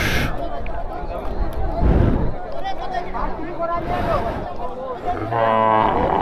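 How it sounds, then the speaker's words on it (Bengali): Cattle lowing at the crowded Garochora cattle market in Narail, with a low moo rising amid constant crowd babble and a busy outdoor din. "এটা হলো গারোচোরা বাজার আবারও বলতেছি শুধু গরু আর গরু"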